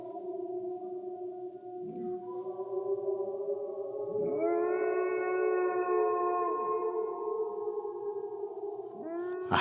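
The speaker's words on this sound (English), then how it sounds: "A howl." A werewolf howl sound effect from an audio story: long, mournful tonal wails rising and sliding in pitch, several overlapping voices sustained across the clip, distant and eerie, with no talk.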